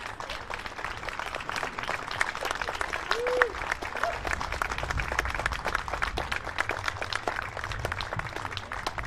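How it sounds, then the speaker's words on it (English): Audience clapping for seniors at a school spring jazz band concert, a moderate, steady patter of hands from a crowd heard somewhat distant in a hall, with scattered voices mixed in. "give a wave to us so we can acknowledge you with some applause"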